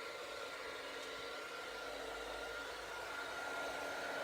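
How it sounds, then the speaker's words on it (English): A heat tool used for embossing blows hot air in a constant, even whoosh, close and steady from start to finish, with no talking. "blast with my heat tool"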